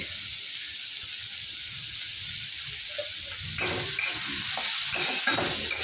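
Capsicum frying in a pan, seasoned with salt, sizzles with a steady close hiss while a utensil stirs it, the scraping growing busier and louder in the second half.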